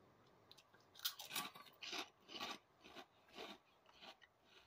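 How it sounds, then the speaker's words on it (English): Crisp, close crunches of Flamin' Hot Funyuns onion ring snacks being chewed, roughly eight uneven bites in quick succession over near silence. "That has a good crunch."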